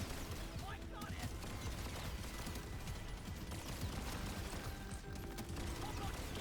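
Rapid carbine fire in Deep Rock Galactic: Survivor, a dense, steady crackle of shots running throughout at a constant level, with busy game effects layered underneath.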